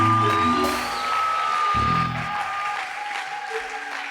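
A church congregation claps together in sustained applause, a steady wash of many hands with a faint ringing tone beneath, moderately loud and continuing throughout.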